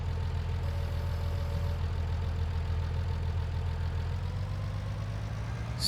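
A tractor engine in the Farming Simulator 19 video game runs steadily while reversing, a low, even mechanical drone with a faint knocking texture and no talk over it.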